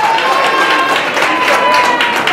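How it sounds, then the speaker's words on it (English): A club talent show audience claps and cheers in a dense, steady wash of applause from start to end, with crowd noise blended through it. "Clap it up for yourselves."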